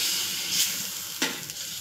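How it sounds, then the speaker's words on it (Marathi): Milk hits roasted corn flour in a hot pan for sweet corn halwa, giving a steady close sizzle and hiss with a couple of brief scraping stirs rising out of it. "आता आपण दूध टाकणार आहे आणि याला एकत्र मिक्स करून घेणार आहे।"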